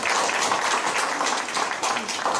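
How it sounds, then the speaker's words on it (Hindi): Loud applause for retiring police officers at a farewell gathering, a close, dense burst of many hands clapping without pause throughout. "इनके लिए जोरदार तालियां।"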